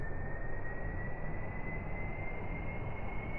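A steady, loud engine roar from an aircraft throttling up for takeoff on a bumpy runway in Kerbal Space Program, a continuous drone with a sustained high whine, no voices over it.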